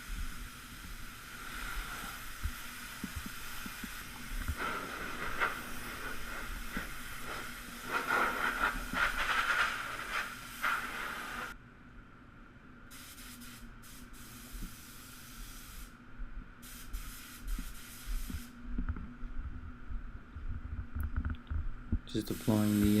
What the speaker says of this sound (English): Just applying the wet on wet, or sealer as it's called in other places like America